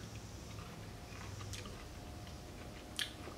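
Marinated artichoke leaves from a jar are chewed up close, a faint, soft chewing with slight crunchy clicks against a quiet room.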